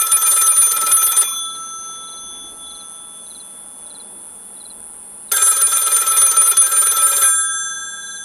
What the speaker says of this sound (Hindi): बार काउंटर पर रखा लैंडलाइन बज उठा।